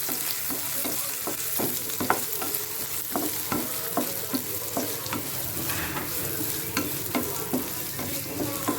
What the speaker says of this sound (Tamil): இந்த வெங்காயமும் கொஞ்சம் நல்லா வதங்கி வரட்டும்